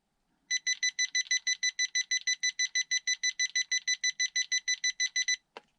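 Electronic speed controller of a RocHobby 1941 Willys MB 1/12 scale RC jeep giving a long run of rapid, evenly spaced high-pitched beeps at maximum steering trim, loud and close, ending abruptly.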